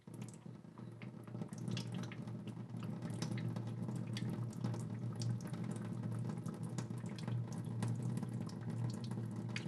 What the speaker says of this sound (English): I'm holding my hand over like this and just letting the water go between my fingers.